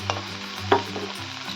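Fried lentil dumplings (bori) go into a sizzling pan of vegetable curry, giving a low steady sizzle with a couple of brief clinks and stirring scrapes, close and with no talk.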